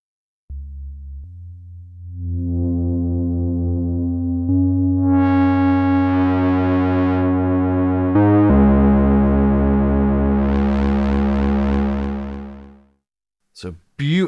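A Behringer Crave and Mother-32 synthesizer play a sustained oscillator tone in a three-oscillator patch, its pulse width and pitch swept by an LFO. The tone grows brighter and buzzier in stepped changes over about twelve seconds, then cuts off, and a few short blips follow.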